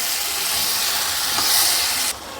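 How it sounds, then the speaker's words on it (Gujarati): Soaked lentils are stirred together with ridge gourd in a hot pan, giving a steady close sizzle and hiss with faint scraping strokes from the spoon throughout, with no talk. "હવે દાળ પણ આપણે તુરિયા સાથે સરસ મિક્સ કરી લઈશું."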